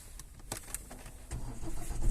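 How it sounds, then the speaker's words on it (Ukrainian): A 2011 Ford Kuga starts with its start-stop button: a few clicks and a starter whirr, then the engine catches and settles into a rising, close idle rumble. "Авто заводиться з кнопки старт-стоп."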